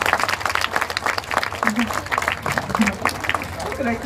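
Crowd applause at a West Midlands Safari Park animal show, lively and uneven clapping from a sizable outdoor audience, with a few voices and cheers mixed in.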